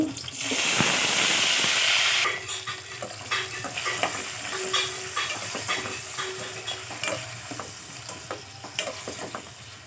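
Onions and tomatoes sautéing in a pan with curry leaves and dried chillies for a drumstick-leaf chutney, a loud burst of sizzle at first, then softer frying crackle broken by scattered stirring scrapes and clicks.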